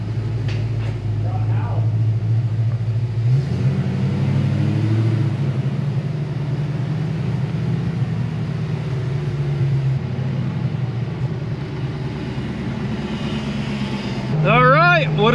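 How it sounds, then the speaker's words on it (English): Ford Fox body SSP police car engine idling with a steady low rumble that shifts pitch after a few seconds and holds, with people talking nearby and a rising whine at the end. "She's a good running car."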